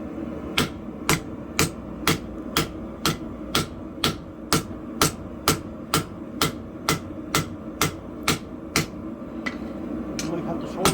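Steady, evenly spaced hammer blows strike metal on a cold anvil, about two ringing clanks per second, close and prominent over a continuous low hum, with a few irregular taps near the end.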